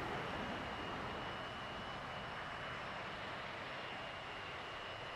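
Su-27 Flanker jet engines in DCS World during aerobatic flight, a steady loud broadband roar with a high whine that holds constant throughout.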